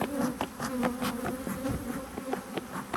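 Dense, steady buzzing of many honey bees around a hive, close and continuous, with occasional louder passes as individual bees fly near.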